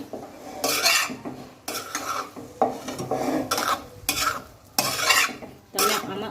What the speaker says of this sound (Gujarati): હવે આપણે એમાં ધાણા નાખી દઈશું સરસ આને આપણે મિક્સ કરી લઈએ